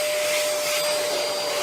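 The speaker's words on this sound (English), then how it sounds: "I just grab the vacuum cleaner." A household vacuum cleaner runs steadily, a loud, continuous whooshing drone with a faint high whine, close by and with no voices over it.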